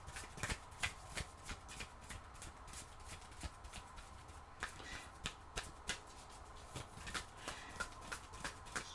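Oracle cards are shuffled by hand in a steady run of soft, rapid riffling flaps and slaps, close and fairly quiet, continuing without pause and with no voice over them.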